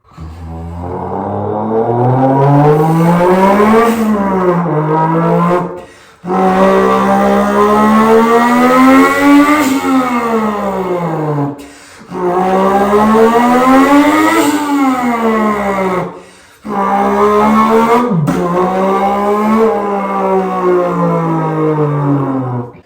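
A human voice imitates a Toyota Supra 2JZ-GTE engine, using tongue, voice and lips to produce four loud, close revving bursts that climb and drop in pitch, separated by short pauses.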